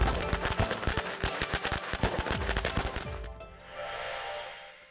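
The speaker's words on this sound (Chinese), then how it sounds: "以纸为衣，以黑火药为心，小巧的纸炮取代了爆竹，更清脆的炸响和红色的纸屑成了迎接新春的美好点缀" Paper firecrackers packed with black powder burst in a dense, loud string of sharp cracks for about three seconds, then give way to a hissing, smoky fizz with no voices.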